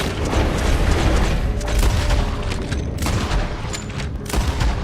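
Dense, loud gunfire from the Red Dead Redemption II video game, a near-continuous barrage of shots and booms packed together with no clear gaps.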